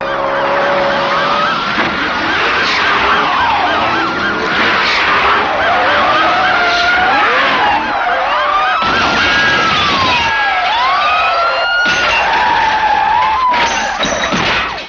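Car and boat chase from the James Bond film Live and Let Die, with loud tires skidding and squealing in sweeping pitch glides over roaring engines, dense and continuous, briefly dropping out near the end.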